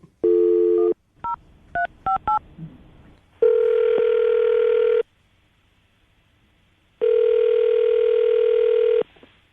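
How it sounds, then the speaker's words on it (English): Telephone call placed live on a morning radio show: a burst of dial tone, then a quick run of touch-tone dialing beeps, followed by two long steady ringback tones separated by silence, loud and close with no talking. "We're about to call Danielle, see if we can get her on the phone, okay?"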